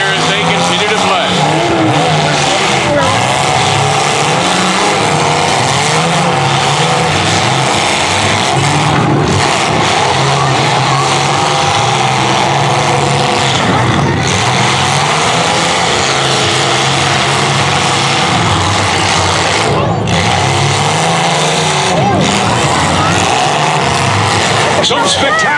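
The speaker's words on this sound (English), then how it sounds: "Some spectacular Demolition Derby driving out here, showcasing all 3 parts of this incredible sport." Full-size cars in a demolition derby in Markham, engines roaring continuously with revving and scattered crunching impacts, heard from a distance under an announcer's commentary throughout.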